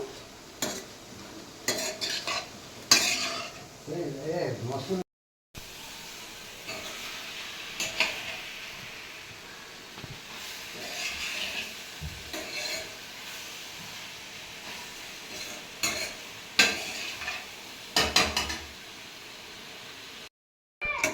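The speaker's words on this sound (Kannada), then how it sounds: "ಚೆನ್ನಾಗೆ ಹುರಿಯೋಣ" Tomato and onion fry in a pan with a steady hiss as a spatula stirs, scraping and clinking against the metal. The sizzle cuts out briefly twice.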